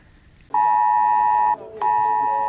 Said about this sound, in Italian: Questo è un messaggio IT Alert, il sistema di allarme pubblico